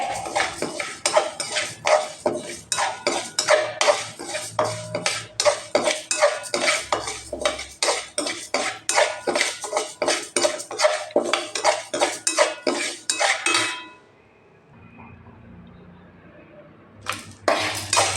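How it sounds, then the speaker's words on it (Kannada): Fenugreek, chana dal and urad dal dry-roasting in a pan, rapid rhythmic scraping and rattling of a metal spatula against the pan, loud and close, then a brief near-silent pause before stirring resumes. "ಮೆಂತ್ಯ, ಕಡಲೆಬೇಳೆ, ಉದ್ದಿನಬೇಳೆ, ಮೆಣಸಿನ್ಕಾಯಿ, ಹುಣಸೆಹಣ್ಣು, ಕರ್ಬೇವಿನ ಸೊಪ್ಪು, ಕೊಬ್ಬರಿ ಎಲ್ಲ ಹುರಿಯಬೇಕು"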